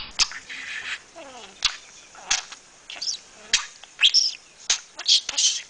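A pet budgie chirps and warbles in a burst of sharp, rapid tweets, clicks and whistled trills, close and loud, with short pauses between phrases.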